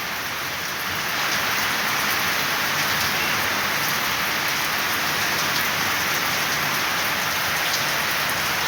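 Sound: rain

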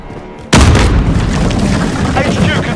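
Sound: enemy cruise missile explosion in video game

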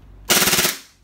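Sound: gas Glock 23 replica pistol firing in full auto

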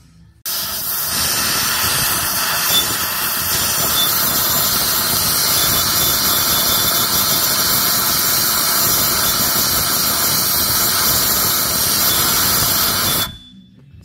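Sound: squeal from 70mm BBK throttle body on Foxbody Mustang engine

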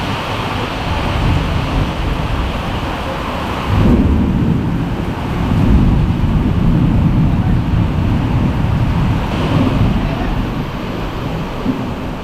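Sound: heavy rain with thunder

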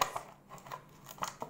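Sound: scissors cutting plastic container

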